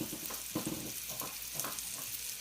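Chicken browning in oil in a cast iron pan gives a steady close sizzle with soft crackling pops, running alone without any talk.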